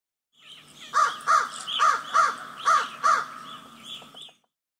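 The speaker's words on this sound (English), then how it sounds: "Crow" A crow caws loud and close, six harsh, evenly spaced calls in a steady rhythm, with a softer trailing call at the end and no other sounds.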